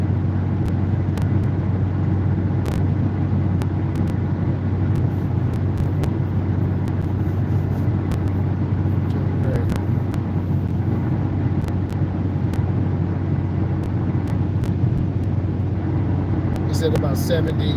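A car cruising on a highway at about 70 mph, with a steady, continuous road and engine rumble throughout and passing traffic nearby, while people talk inside the cabin.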